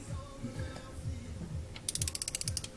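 A ratchet wrench turns a bolt on a 2018 Ford Edge Sport 2.7L V6 EcoBoost during maintenance; after some low mechanical handling noise, a quick run of about ten sharp, close clicks from the pawl is heard.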